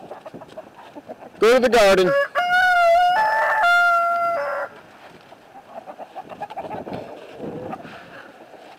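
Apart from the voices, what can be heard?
chickens clucking in the yard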